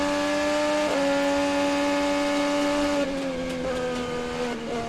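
Scott Dixon's 2015 IndyCar racing at Sonoma, heard onboard as a loud sustained high-pitched engine whine holding steady, then dipping with gear changes and rising again.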